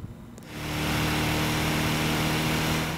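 A car engine in the racing game Gran Turismo 6 surges in after half a second and holds a loud, steady droning roar, with no voices over it.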